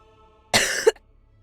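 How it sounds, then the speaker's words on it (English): A single short, hoarse cough, close and clear, breaks an otherwise quiet moment. "I don't know why I'm all of a sudden coughing again so much."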